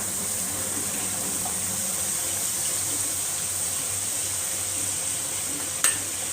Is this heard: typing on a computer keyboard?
no